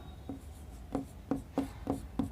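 Chalk or marker strokes on a classroom board while working out a square's diagonal in a Hindi geometry lesson, six short separate taps and scrapes at an uneven pace, fairly close and fairly quiet, with no talk over them.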